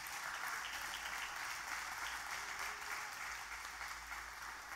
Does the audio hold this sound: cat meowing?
no